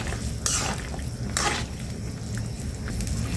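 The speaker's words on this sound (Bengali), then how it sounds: "গরম জলটা দেওয়ার সাথে সাথে একদম ফুটে উঠেছে, আর আমি একটু নেড়ে ছেড়ে দিচ্ছি" Fish curry with hilsa, data stems and potato being stirred in a pot just after hot water is added, with a few bright scraping and clinking strokes of the spoon over a steady bubbling simmer, close, no voices.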